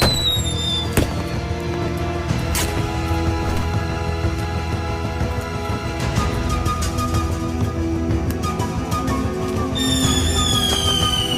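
Cartoon fireworks pop and crackle in dense, sharp bursts throughout, layered over a busy bed of music with whistling streaks rising near the end.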